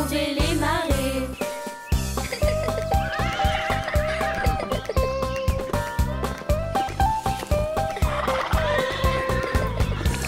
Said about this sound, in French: Trotte, cheval, trotte, trotte et galope